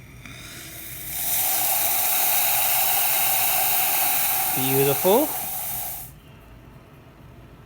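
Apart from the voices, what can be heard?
La Pavoni espresso machine steam wand hissing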